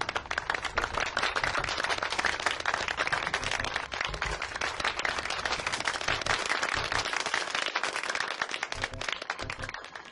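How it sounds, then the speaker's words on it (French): Warm audience applause for Philippe, honoured by the staff of radio station Excelsior FM: loud, dense, sustained clapping from a crowd with a few low thumps underneath. "Je vous invite à applaudir chaudement Philippe."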